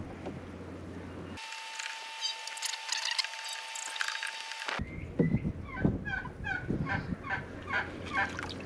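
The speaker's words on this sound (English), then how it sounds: "we got a couple of wild turkeys running around here" Wild turkeys gobble in bursts of rapid, warbling calls at a moderate distance, following a stretch of steady mechanical hum and tones from a hot tub.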